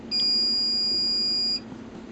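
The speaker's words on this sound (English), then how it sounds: "I don't know if you can hear that beeper, but it is beeping." A steady, high electronic beep from a beeper on a QCX+ 40 meter transceiver circuit board sounds continuously for about a second and a half, then cuts off, leaving a quiet low hum.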